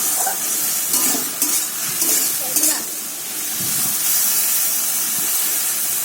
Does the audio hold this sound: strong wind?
no